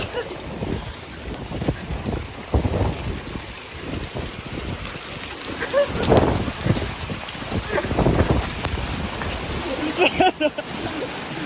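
A hailstorm in Calgary sends ice pelting down outdoors, a dense rattling patter mixed with wind buffeting the microphone, while people talk now and then over the din.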